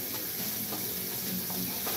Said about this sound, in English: Your sausage is starting to brown nicely.